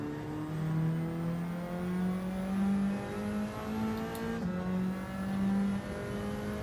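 A race car engine in the Gran Turismo 7 racing game whines steadily at a fairly quiet level. Its pitch rises and dips as the car accelerates and brakes, with no speech over it.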